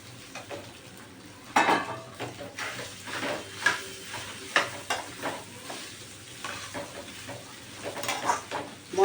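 Cooked rice is stirred into fried drumstick-leaf pulihora in a pan, with repeated scraping and stirring strokes over a faint sizzle, close and moderately loud, in irregular bursts.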